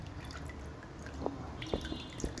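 Herbal liquid pressed from Senna alata leaves strains through a cloth, falling in a few distinct, irregular drips over a soft, steady background hiss.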